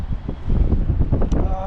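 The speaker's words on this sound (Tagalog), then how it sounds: "Malamig po ngayon at mahangin." Wind gusting across an open fishing spot in cold, blustery weather, a steady low rumble of buffeting against the microphone with a voice talking over it throughout.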